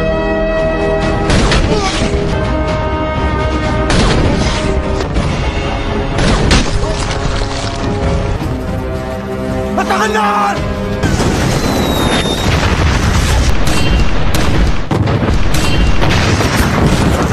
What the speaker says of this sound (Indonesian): Setelah beberapa rudal diluncurkan ke arah Zarin